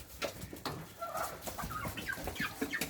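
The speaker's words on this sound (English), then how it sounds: "Come on, turkeys!" Ranch turkeys cluck and chirp at feeding time, a flurry of short, overlapping calls close by, with no talking.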